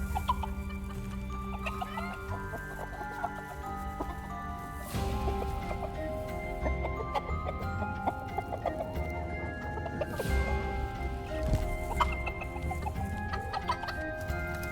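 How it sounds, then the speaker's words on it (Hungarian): A game chicken clucks repeatedly over about fifteen seconds, with busy bursts of squawks and clucks. The calls are layered over a thick, steady game soundtrack with tonal music, moderately loud and close. "Én ezt értem, de már itt a csirke."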